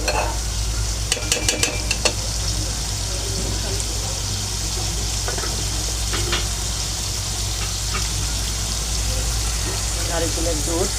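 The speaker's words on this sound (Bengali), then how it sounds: "একটু কষাবে, তারপরে আবার কি মশলাগুলো দিবে।" Spice paste sizzling and being stirred in a pan for a Bengali curry, a steady frying hiss with scraping stir strokes close by; no talking over it.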